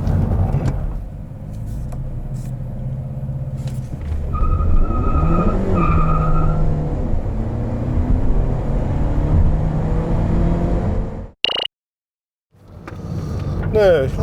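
A Mercedes-Benz A220 with a turbo engine accelerates hard on a winter road test. The engine note climbs steadily and loudly, then cuts out abruptly near the end, with a voice partly audible over it.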